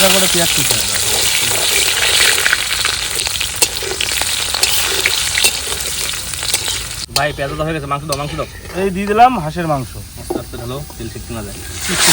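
Dried red chillies and bay leaves sizzle and crackle in hot oil with whole cumin, a steady frying hiss that continues as a voice talks over the second half.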